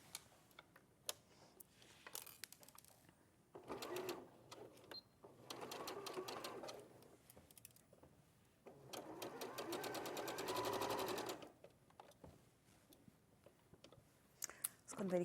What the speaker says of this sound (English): Okay, so I'm going to sew that